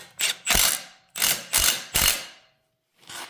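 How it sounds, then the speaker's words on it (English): A ratchet clicks in five quick bursts, close and loud, tightening a bolt on the power steering bracket of a Mazda FD RX-7, then pauses before one final short burst. "so the third bolt in the bottom right here, let's tighten up"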